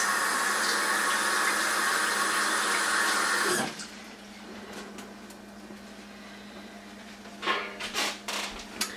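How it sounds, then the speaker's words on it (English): Hands washed under a running kitchen tap, a steady loud gush of water that cuts off partway through, followed by quiet room tone and a few small handling knocks. "I'm going to go wash my hands right quick again"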